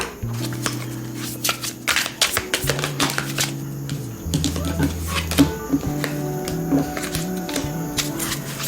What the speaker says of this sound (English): this is going to be fun for me to shuffle and break it in